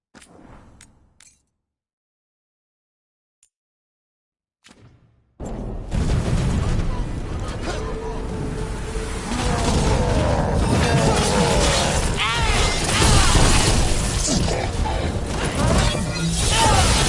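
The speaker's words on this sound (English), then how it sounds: "Cannon fire! Get clear!" Cannon fire booms in Dragon Age: The Veilguard after a few faint sounds and near silence, becoming a loud, continuous roar of blasts, crashes and rumble that lasts to the end, with some battle voices mixed in.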